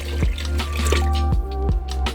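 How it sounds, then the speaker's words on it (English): Four cups of water pour steadily into a pot of vegetable broth for ramen, a close, continuous liquid splash and trickle with faint tonal sounds in the background. "We're gonna also add 4 cups of water."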